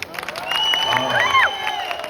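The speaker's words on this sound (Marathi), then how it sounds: "बाबा टाळी मिळाले, टाळी मिळाले." An audience at a Malvani comedy skit about Nal Damayanti breaks into a short burst of clapping and cheering, with a bright whistle-like tone riding over the applause.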